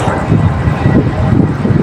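Strong wind roars steadily and loudly across the microphone near a fire in Parañaque, a continuous buffeting rush with no pauses.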